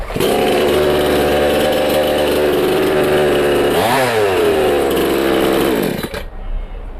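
A petrol chainsaw runs loud and close, its two-stroke engine holding a steady high whine, swelling through a rev near the middle, then cutting out abruptly near the end.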